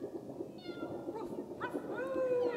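Several faint cat meows rise and bend in pitch over a soft, steady background hum, growing a little louder toward the end.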